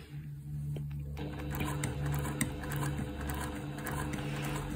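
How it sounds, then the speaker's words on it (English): A sewing machine top-stitches a linen apron, its needle chattering in a fast, steady run that starts after a brief quiet moment and continues evenly with small pauses, close and clear with no talking. "I'm using the width of my presser foot to determine where my top stitching is"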